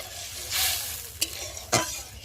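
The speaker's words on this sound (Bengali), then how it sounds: "আর এখন আমি জল দিয়ে দেবো। একটু খুন্তি দিয়ে ভালো করে নেড়ে দেবো।" A spatula stirs a pan of curry just after water goes in, giving a soft continuous sizzle with a few quick scraping strokes and two sharp clinks against the pan. Close and fairly quiet, with no voices.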